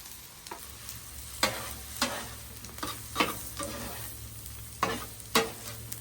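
Mushrooms and diced onion sizzle on a hibachi griddle, with a steady quiet fry broken by repeated sharp spatula scrapes and taps at an irregular pace, close and without voices.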